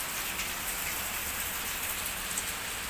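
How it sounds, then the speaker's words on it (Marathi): Rain falling steadily but not hard, a dense, even hiss of drops on surfaces, close and continuous without a break. "पाऊस आहेच, पण जोराचा पाऊस चालू नाही आहे."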